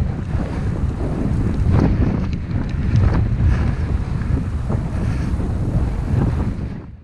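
Strong wind buffets the microphone outdoors on a blustery day in Lincolnshire, a loud continuous low rumble with gusting surges and no voices.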